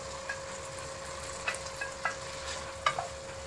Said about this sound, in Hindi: 10 सेकंड इसको फ्राई करेंगे।